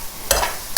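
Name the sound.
stirring leeks in butter in a pan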